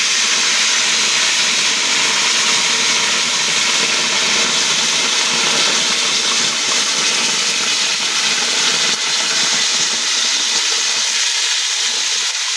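A ginger, garlic and green chili paste sizzles in hot oil, a loud, dense, continuous hiss that stays close and steady from start to finish.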